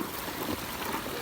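Canal water diverted from a mountain stream rushes steadily through a pipe toward a small water mill grinding maize, a constant close gurgling flow with no voices.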